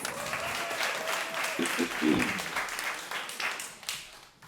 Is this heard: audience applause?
yes